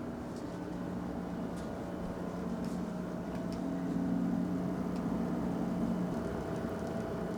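Steady low engine drone and hum fill a cramped cabin aboard a sturdy 2,000-ton, 85-metre expedition ship in Antarctic waters, droning evenly throughout without a break.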